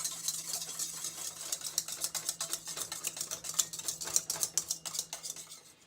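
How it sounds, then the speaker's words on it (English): Sodium hydroxide is stirred in a mixing container, a rapid, rhythmic scraping and clinking of a utensil against the vessel, close and fairly quiet, with no voices. "I'm gonna stir it to make sure everything is well mixed."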